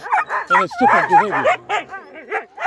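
Huskies fence fighting at the front gate and yard, a close, loud run of yips, whimpering barks and howl-like yowls in quick succession, with a person talking over them.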